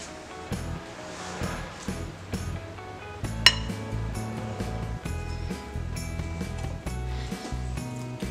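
A spoon clinks and scrapes around a bowl as condensed milk is mixed into a chocolate salami mixture, making close, irregular knocks and rattles with no speech.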